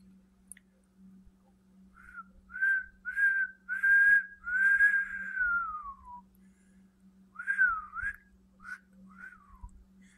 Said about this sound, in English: can't believe I can't whistle, man.